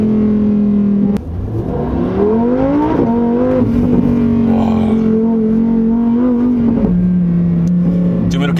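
A Lamborghini Huracan Tecnica's naturally aspirated 5.2-litre V10 revs loudly in manual sport mode, climbing in pitch, holding a high steady howl, then easing down, with a voice talking over it.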